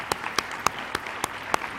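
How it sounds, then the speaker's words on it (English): Sparse, evenly spaced hand claps at a city and university relations conference, roughly six sharp claps in under two seconds, sounding like only a few people clapping rather than a full crowd. "Can we give Shannon a round of applause?"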